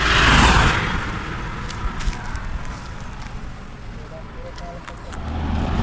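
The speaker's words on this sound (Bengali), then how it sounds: "সরকারি বাসগুলো এমনভাবে টানাটানি করে এরা যে কি বলবো" Government buses pass on a road, a loud broadband rush at the start that fades into a steady traffic rumble, with voices talking over it.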